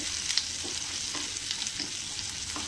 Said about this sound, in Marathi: व्यवस्थित असं ढवळून घेऊया. दोन मिनटं आपल्याला हे परतायचं आहे